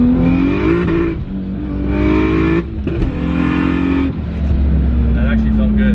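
A turbocharged BMW engine revs hard in repeated surges, its note stuttering and sputtering from a misfire, with people talking close by over the noise.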